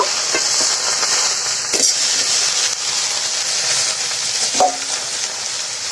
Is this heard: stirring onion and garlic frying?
yes